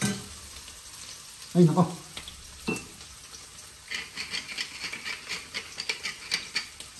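Spaghetti sauce bubbling and sizzling in a pan, a steady close crackle with a brief spoken exclamation early on, then a busier run of rapid popping spatters toward the end.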